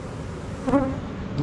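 Honeybees buzzing steadily around a hive used for almond pollination, a dense close hum with a few individual bees droning louder as they pass near.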